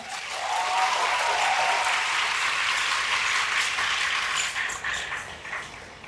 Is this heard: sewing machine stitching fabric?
no